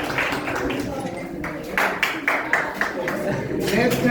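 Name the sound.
audience clapping at student award ceremony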